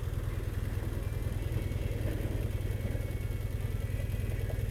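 A motorcycle with drum brakes idling, a low, steady rhythmic engine putter at moderate distance, even and continuous with no voices.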